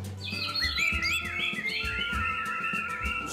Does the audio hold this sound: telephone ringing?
no